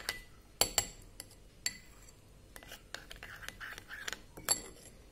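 Spoon mixing microwave-melted chocolate in a bowl for an Oreo pudding dessert, quiet scattered clinks and scrapes of metal on the dish, close and soft.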